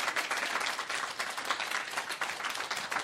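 An audience applauds a Polaris singer with steady, dense clapping that carries on without a break, fairly soft and a little distant, with no voices over it.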